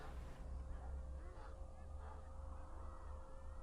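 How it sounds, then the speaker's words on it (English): Ducks or geese honking and quacking in the Killing Time video game, a steady wash of bird calls over a low constant hum, moderately loud and continuous with no talk. "I think I'm hearing ducks."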